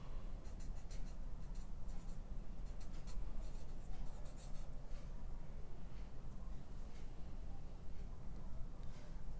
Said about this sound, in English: go ahead and write your name